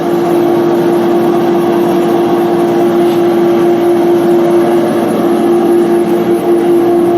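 Machine tool spindle running steadily at a higher RPM after a gear change, a loud continuous mechanical hum with a strong steady tone that stays constant throughout, with no talk.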